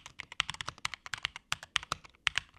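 Typing on a Nocfree 65% split keyboard: a brisk, irregular run of close, crisp key clacks, each keystroke sharp and distinct, with no voice over it.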